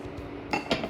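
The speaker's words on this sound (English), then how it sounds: "I'm just going to stir those down and break them up" American cheese being stirred and broken up in a pot for queso blanco dip, with two quick metallic clinks of a utensil against the pot over a quiet background.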